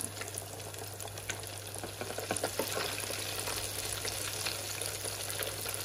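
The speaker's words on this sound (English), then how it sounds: "Into the pot we go. Look at that. Gorgeous. And I'm only gonna fry them for at least 8 to 10 minutes." Food frying in a pot during home cooking with mother, a steady sizzle with occasional stirring scrapes, close and moderately loud, alone without talk.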